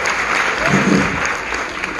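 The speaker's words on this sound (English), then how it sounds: "How about a round of applause for him?" A live audience at a comedy show applauding for a performer on his first night, a short loud burst of clapping and cheering close by with a voice faintly underneath.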